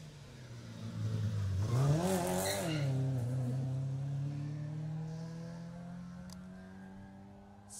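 A Saab rally car on a closed rally stage roars past, rising to a loud peak as it nears and then fading steadily into the distance, with no voices over it.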